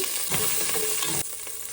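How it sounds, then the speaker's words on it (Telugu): Green chillies frying in a hot pan, a close, loud crackling sizzle with stirring scrapes that eases slightly near the end; no talking. "ఇప్పుడే ఇప్పుడు ఇందులోకి పచ్చిమిరపకాయలు వేస్తున్నానండి"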